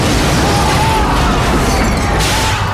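A terrorist bomb explosion in a Paris-set action movie promo, heard as a loud, dense, sustained roar of blast and rumble that fills the whole moment.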